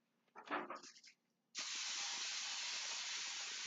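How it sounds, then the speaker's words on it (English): Canola oil spray hisses steadily and loudly into the bottom of a baking pan for brownies, a continuous burst that follows a brief rattle of the can. "I usually spray it in the bottom of the pan"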